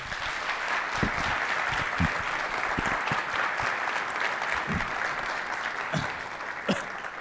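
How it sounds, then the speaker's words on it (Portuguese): An audience at a finance club's tenth-anniversary event applauds a guest speaker, a sustained, even roar of many clapping hands with a few louder nearby claps punctuating it throughout. "E pedir uma salva de palmas aqui para o nosso convidado."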